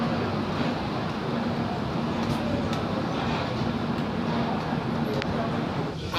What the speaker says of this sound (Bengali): 8:05 ট্রেন গুয়াহাটি স্টেশন ছাড়লো